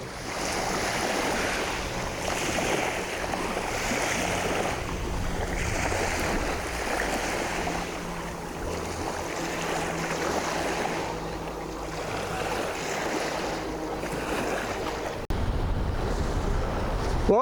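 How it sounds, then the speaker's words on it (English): Strong wind blows on the Croatian seaside, a continuous buffeting roar against the microphone with surf washing beneath it, steady throughout, without voices. "the wind has really picked up now, so this will be a good test"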